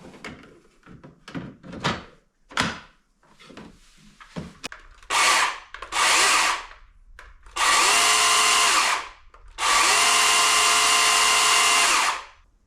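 Dewalt battery chainsaw fitted with a 9 amp-hour battery, several short bursts of whining motor after some clattering handling noises, the bursts growing longer toward the end, close and fairly loud with no talk.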